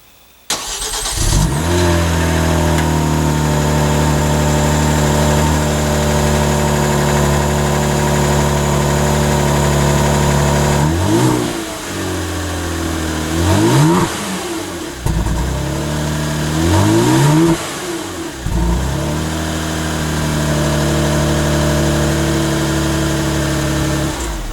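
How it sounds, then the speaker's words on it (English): A Kia Stinger GT's V6 engine idles at a steady mid-pitched hum, then gets several sharp blips of the throttle. The revs climb and fall back repeatedly, loud and close, with no talking over it. "it'd be nice if Kia would bump up the sound just a little bit on the V6"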